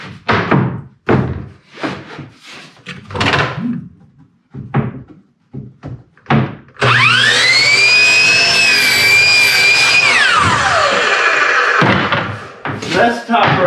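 Power saw slicing through wood trim boards, the motor spinning up with a loud whine that bites into the cut for about three seconds and winds down, with someone talking before and after.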